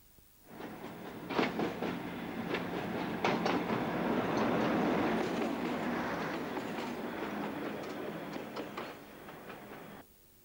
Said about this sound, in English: The light engine will pick up a loaded train of coal from Clipstone Colliery